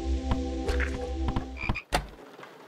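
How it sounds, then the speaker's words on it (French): A frog croaks in the horror game HOUSE, a loud, near series of throaty pulses over a droning hum that cuts out near the end, with a couple of sharp clicks and no talk. "Une grenouille ici, yes."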